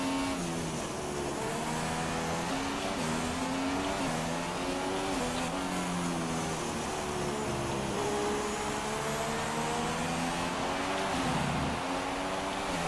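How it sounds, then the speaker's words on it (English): Racing cars from F1 2016 at the Hungary circuit whine close by, a sustained high engine drone rising and falling with gear changes as a train of cars runs nose to tail, with no talk over it. "And there's a whole train of cars forming behind us now."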